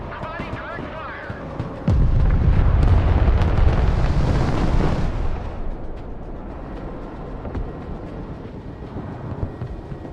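Video game battle with artillery and tank fire: a loud rumbling barrage of explosions hits suddenly and roars for about three seconds, then fades into quieter combat noise, with voices talking over the fighting.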